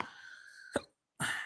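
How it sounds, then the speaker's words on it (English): A man giving a spiritual scripture lecture hiccups, two short sharp bursts about half a second apart, close and fairly loud, with a brief silence between them and no talk over them. "irritating this hiccups"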